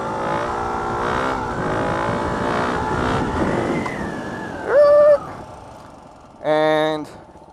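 Dirt bike engine held in a wheelie, the throttle modulated and gears changed without the clutch: a steady, buzzing engine drone, then two short, louder rev bursts separated by a brief lull.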